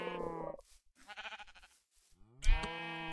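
Sheep in Minecraft bleat in short, near bursts, with a few quiet gaps between calls and a sharper bleat at the end.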